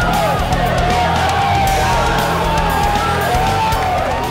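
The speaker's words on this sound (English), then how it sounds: "And the crowd goes wild." A crowd cheers and yells at a robotics tournament, a loud continuous roar of voices with whoops rising above it and no pause.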